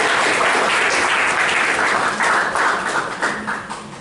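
A seminar audience in Jakarta applauds, the loud, dense clapping fading gradually toward the end.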